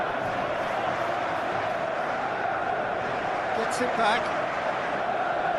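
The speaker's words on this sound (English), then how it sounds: "Crowd appreciates good football all round there" Crowd noise from a simulated Chelsea vs Burnley Premier League football match forms a steady, broad roar that swells slightly, running beneath a commentator's speech.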